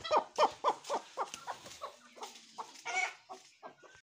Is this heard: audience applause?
no